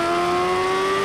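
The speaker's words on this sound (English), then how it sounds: "Oh, here comes the bike." A Kawasaki H2R motorcycle accelerates hard in a drag race against a Bugatti Chiron Super Sport, with a loud, sustained high-pitched engine whine held at a steady pitch throughout the brief burst.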